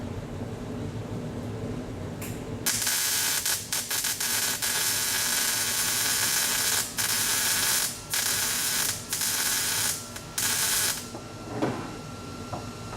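A pulsing welder lays a weld on the floor of a 1976 Trans Am SE, its harsh hissing crackle switching on and off in rhythmic bursts with short gaps, close by and with no talk.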